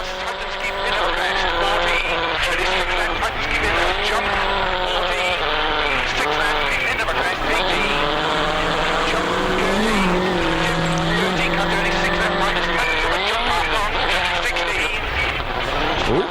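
In WRC 2005 on a tight Japanese rally stage, a rally car's engine revs up and down through gear changes with occasional tire squeal, loud and continuous, while a commentator talks over it.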